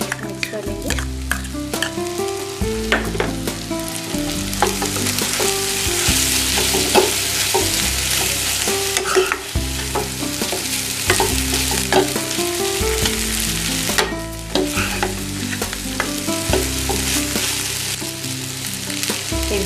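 Cooked rice for Lucknow-style soya chaap biryani, mixed with coriander and green chilies, sizzles steadily in a pan under constant close-up stirring and scraping.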